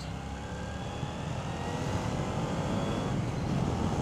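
A motorcycle with an engine similar to a Harley-Davidson 883 Iron runs with a steady, loud, low rumble. It holds a constant drone under wind noise the whole time, close and slightly building.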